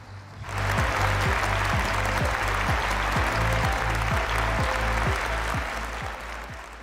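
A conference audience at an opening ceremony applauds a former Prime Minister of Canada, a sustained, full round of clapping from a large hall that begins abruptly, stays strong with a low steady hum beneath, and eases slightly at the end.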